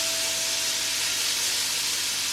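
Bacon sizzling in a frying pan while pork steak cooks nearby: a dense, steady hiss and crackle, close and loud, with no talking.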